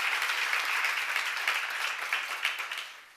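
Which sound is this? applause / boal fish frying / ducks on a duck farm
applause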